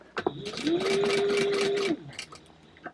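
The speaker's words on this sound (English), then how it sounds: "take it back to the sewing machine, and this time sew it at 1/2 inch to sew all of this together" A sewing machine stitches a purse lining at a half-inch seam with a 3 stitch length. A steady mechanical whir runs for just over a second, set between brief clicks and handling noises, with a voice nearby.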